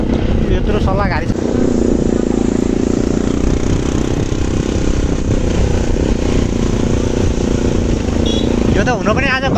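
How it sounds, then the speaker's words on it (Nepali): Motorcycles ride together in a bike rally, their engines droning loud and continuous close by, with voices talking over the rumble throughout. "यो त हुन पनि आज बाइक र्याली जस्तै नै भयो क्या है।"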